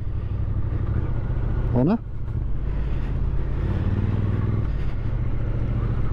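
Triumph Street Twin 900cc motorcycle engine on a 2021 model riding along a road, a steady low rumble throughout with a brief rising rev, while a rider talks over it.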